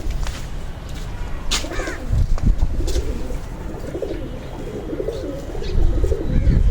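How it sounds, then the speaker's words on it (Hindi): Domestic pigeons being kept and flown, cooing softly in low, rumbling phrases against steady background noise, with a louder swell near the end. "ये जी आ गया दूसरा कबूतर।"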